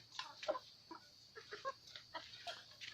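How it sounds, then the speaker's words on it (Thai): Chickens cluck softly in a quick, irregular series of short notes, fairly faint and nearby, with no talking. "มาทางนี้เป็นไก่บ้านี่ค่ะ"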